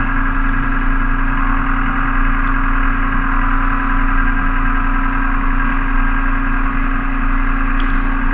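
Mahindra tractor engine laboring while pushing against a tree about 20 inches thick at the base, a loud, steady diesel drone with a constant low rumble and no break.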